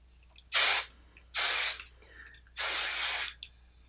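Hairspray hisses out of an aerosol can in three close bursts onto hair, the first two short and the last one longer, with quiet gaps between them.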